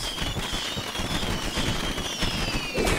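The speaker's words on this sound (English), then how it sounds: "Fireworks!" In the video game Precipice of Darkness, fireworks go off in a string of crackling bursts, with sharp pops over a fizzing, hissing trail and a louder burst near the end.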